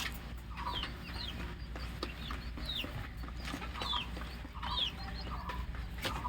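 Brahma chickens on a small farm cluck and call repeatedly in short bursts over steady background noise, several birds close by with no talking.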